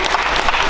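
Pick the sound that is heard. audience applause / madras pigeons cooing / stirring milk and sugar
audience applause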